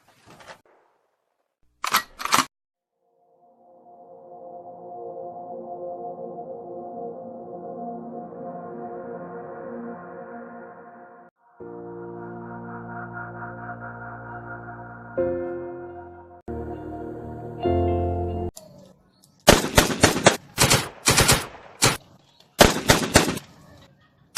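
Gunshots in a short action film: a sharp crack early on, then tonal music, then a rapid cluster of loud bursts near the end.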